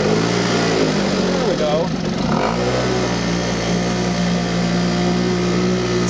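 A 1960s Cary Jet outboard motor, pull-started with the choke down, sputters for a couple of seconds, then catches and settles into a steady, loud, droning run close by, with someone speaking briefly over it.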